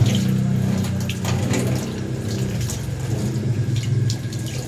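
Water runs steadily from a newly fitted replacement faucet, a continuous close hiss and splash that holds for the whole stretch with no talking.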